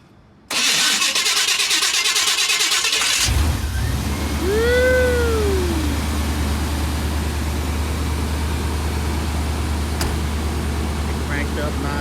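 A 1990 GMC Sierra pickup's engine cranks with a loud starter whir for about three seconds, then catches and settles into a steady idle with a low rumble. A brief rising squeal and faint background chirps sound during the idle.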